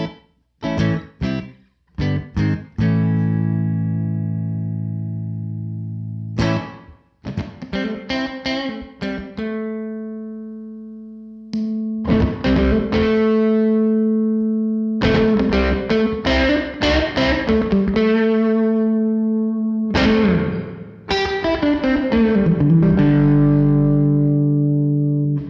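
An electric guitar plays through a reverb pedal on its room setting, with sharp picked notes and strummed chords, each ringing out with a short ambient tail between pauses, with no talking.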